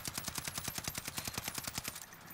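Rapid automatic gunfire in Call of Duty Warzone on Rebirth Island, about twenty sharp evenly spaced shots in two seconds, loud and close, then a short tail.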